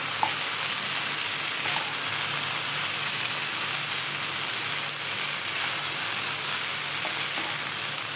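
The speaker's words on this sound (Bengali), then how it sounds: "রাইসগুলি অল্প অল্প করে অ্যাড করে দিবে, যাতে এগুলোর মধ্যে সুন্দরভাবে ভাজা ভাজা হয়" Rice frying in ghee in a pan, a steady close crackling sizzle that holds throughout with faint stirring.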